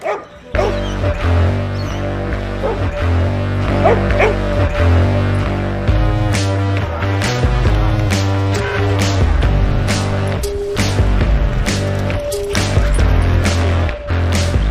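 Rocket the working dog lets out a run of short, lively barks and yips close by, mixed in with music.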